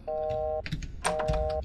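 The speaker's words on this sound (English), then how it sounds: "Can I hang up the comically small phone? Or do I have to just let it buzz?" Comically small telephone buzzing in the found-footage game Fragments, two short electronic buzz tones in a pulsing pattern, each lasting about half a second, close and clear with faint clicks between.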